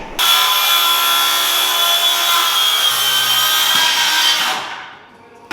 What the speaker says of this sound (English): This saw, by the way, is a Makita 18 volt.